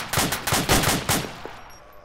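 Automatic gunfire in Arma 3, a rapid burst of five or six loud shots followed by one fainter shot and a fading tail.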